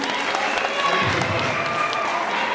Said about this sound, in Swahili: MCA kwa maana tupigie makofi.